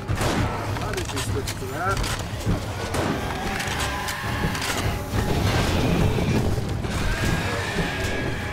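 Shotgun blasts in the survival game 7 Days to Die with the Darkness Falls mod, multiplayer, booming among crashes and zombie impacts in a dense, busy mix, with players talking over the action.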